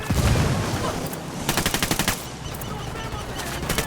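Automatic gunfire in Ghost Recon Wildlands, with loud rapid bursts of shots in a fast rhythm that dominate the middle and end, over a rumbling game soundscape.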